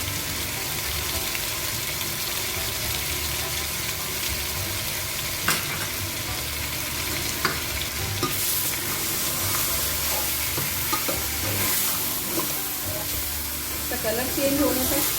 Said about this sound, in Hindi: इसको हम लहसुन अदरक में थोड़ा सा रोस्ट करेंगे